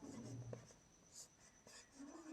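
A pen scratches across paper during a maths lesson, quiet close strokes in short bursts, with someone speaking at intervals.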